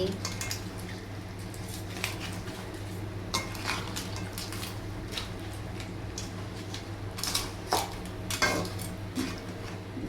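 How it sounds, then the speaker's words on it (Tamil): Crab being stirred in a cooking pot, with scattered clinks and scrapes of a utensil against metal and soft wet squishes, fairly close, under an intermittent voice. "நண்டெல்லாம் நம்ம சேர்த்துடலாம் சேர்த்துட்டு நல்லா கிளறி விட்டுடலாம்"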